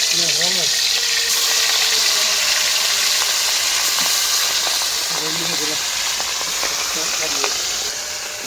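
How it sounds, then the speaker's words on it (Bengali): Eggplant slices frying in leftover fish-frying oil, a loud, steady sizzle and hiss close by, with a voice talking intermittently over it. "এখন এই যে মাছ ভাজা তেলে বেগুনগুলি ভাজা দেন।"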